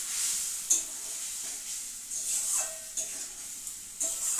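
Ginger, garlic, green chilli and spices sauté in hot oil with a continuous bright sizzle, broken by occasional scraping stirs and soft clinks of a utensil against the pan.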